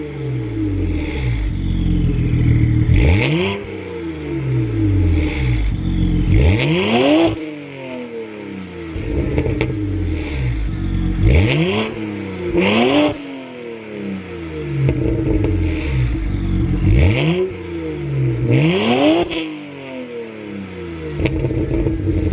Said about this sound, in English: In the previous clip you just saw of me revving the car